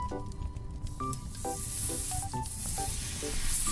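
Bacon frying to crispiness in a Dutch oven over a fire, a steady close sizzle and crackle with scattered sharp pops and ticks throughout.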